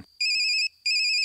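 Electronic phone ringtone playing loud and alone in two bursts separated by a short pause, steady sustained tones throughout.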